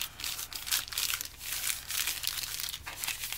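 A small 5 by 11 inch paper lunch bag is creased and folded up by hand, giving a string of close, crisp crinkles and rustles at a soft level.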